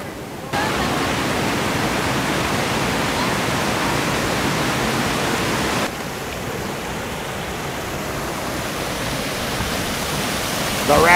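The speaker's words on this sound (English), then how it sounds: "The rapids. Major Rapid River." Broad, steady roar of rushing white water from the rapids on Major Rapid River at a trout hatchery, loud and continuous with a slight drop partway through and no talk.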